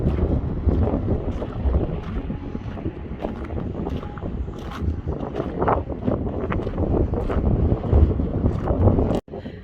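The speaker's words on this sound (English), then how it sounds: "It's a little windy." Steady wind buffets the microphone throughout, a loud rumbling roar with gusty swells and no voices.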